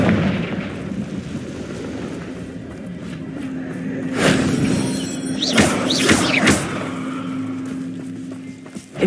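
Confringo blast spells cast in the Hogwarts Legacy video game: several sharp, loud explosive bursts arrive in a quick cluster midway, over a low rumbling background and a steady hum.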